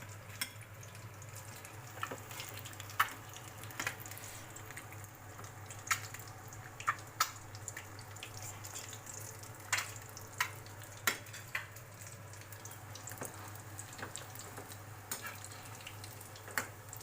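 Egg bajji frying in hot oil gives a steady, quiet bubbling sizzle with scattered sharp pops and crackles throughout, close by and with no voices.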